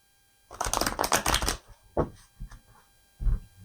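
A rapid riffle of playing cards being shuffled, about a second long, followed by a few soft taps and clicks as the deck settles.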